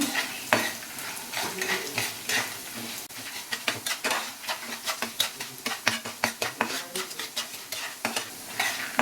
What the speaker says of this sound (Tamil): ஒரு மூணு மிளகா காஞ்ச மிளகா மட்டும் போட்டுக்கிறேன்